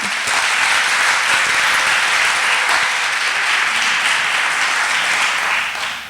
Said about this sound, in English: So can we give her a round of applause, but a really loud one?